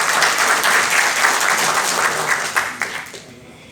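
An audience at a provincial court event applauds for a woman doctor arriving to speak, steady clapping that thins out and fades over the last second.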